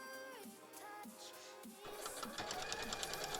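A sewing machine runs a continuous, rhythmic stitching whir as it sews thick layered fabric for a cosplay bodice at a longer stitch length. The machine sounds close and steady and grows busier toward the end, with no talking.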